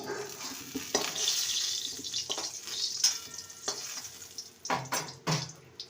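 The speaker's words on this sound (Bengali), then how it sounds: "লাল করে আলুগুলোকে ভেজে নিতে হবে" Potatoes frying in oil with a soft, continuous sizzle, broken by scraping and clattering as they are stirred in the pan.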